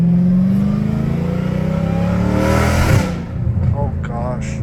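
A catless Dodge Hellcat Redeye revs loudly and close, the roar rising and falling in strong bursts before dropping, with a voice briefly heard near the end.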